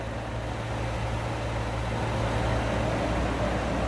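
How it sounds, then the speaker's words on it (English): An engine idling quietly, a low steady hum with a faint rhythmic throb running evenly and unchanging from start to finish, no voices present. "Holding good temperature. Engine is super quiet."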